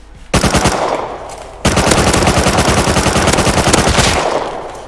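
Automatic gunfire from the survival game Rust: a loud, close burst of rapid shots, a brief pause, then a second sustained rattling volley lasting several seconds before trailing off.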